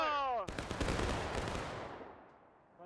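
A battalion musket volley in War of Rights, a Civil War battle game at Saunders Field: a brief shouted voice, then one massive crackling blast of many muskets at once that rolls and fades away over about two seconds.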